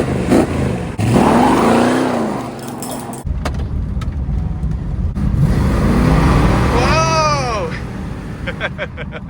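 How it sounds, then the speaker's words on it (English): A 1971 Dodge Super Bee's engine roars as it spins its tires, loud and close, with a rising rev sweep, road noise and people talking. "it just spun the tires at like 30."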